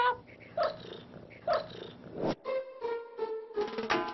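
A Bengal cat gives a series of short, raspy, bark-like calls in close succession, with a couple of brief tonal chirps mixed in, fairly faint and heard alone.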